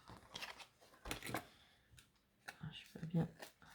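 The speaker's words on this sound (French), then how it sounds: "Je vais en couper un premier bout." Scissors cut through paper for a handmade Christmas card, giving several close, crisp snips in quick bursts, with a quiet voice speaking between them.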